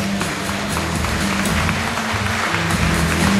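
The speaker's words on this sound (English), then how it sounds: "please join them and give them a big round of applause" Wedding guests applaud the bridal party at a reception in the Jacob Henry Mansion, Joliet, Illinois, a steady roomful of clapping that holds at an even, fairly loud level throughout.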